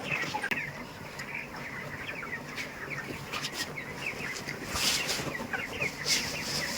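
A crowd of 25-day-old poultry birds clucks and chatters continuously in a busy poultry shed, with scattered brighter calls rising over a steady bed of noise.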